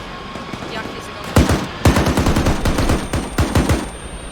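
Automatic gunfire in a military shooter game, loud and close: a single shot followed by rapid machine-gun bursts in quick rhythmic strings, with voices faintly talking underneath.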